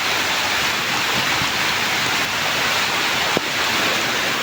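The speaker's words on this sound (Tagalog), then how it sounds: "dito sa kalsada grabe ang baha" Flood water rushing through a residential street during Typhoon Carina, a dense, continuous roar of flowing water, close and loud, with a brief knock near the end.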